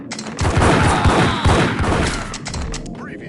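Rapid bursts of gunfire with thuds and booms in the Max Payne action game on Android, dense and loud for a few seconds before tailing off.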